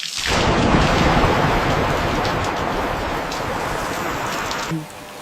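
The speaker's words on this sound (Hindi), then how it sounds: "बारिश आ रही है" Heavy rain pours down in a dense, steady roar with a deep rumble of thunder underneath, loud and close throughout.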